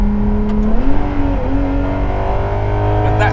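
A hypercar engine revs hard toward 9,000 rpm, a loud close drone that climbs in pitch, dips briefly between gears, then holds a steady high howl, with a faint voice underneath.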